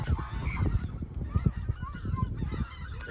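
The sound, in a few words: speckled belly geese honking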